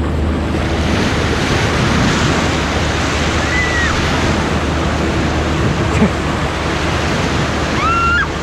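Ocean waves and wind wash steadily around a fishing boat during winter fishing for opaleye off a rocky reef, a loud continuous roar with brief faint squeaks over it.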